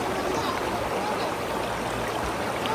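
Clean, clear stream water flowing steadily at close range, a constant broadband rush and gurgle with no pauses.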